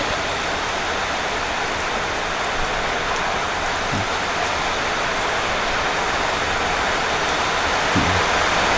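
Steady rain falls outdoors in a dense, continuous hiss, with a couple of faint soft thumps underneath.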